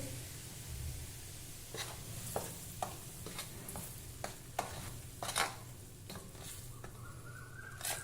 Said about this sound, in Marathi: गरम तेलाचं मोहन यामध्ये घालायचं आहे